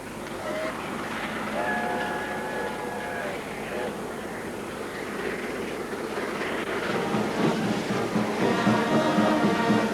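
A vintage steam excursion train on the Main Trunk line runs steadily through the whole stretch, with rumbling wheels, a few whistle-like tones early on and voices mixed in among the rolling noise.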